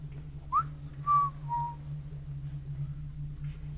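A few short rising and falling whistle notes from a video game (Among the Sleep), clear and fairly close, over a steady low electronic hum; no talking.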